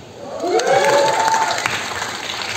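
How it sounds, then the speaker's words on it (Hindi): Applause from a launch-event audience for the Indian television show The Big Picture with Ranveer Singh, a dense burst of clapping that swells quickly and holds steady, with faint cheering and a brief voice underneath. "तालियां।"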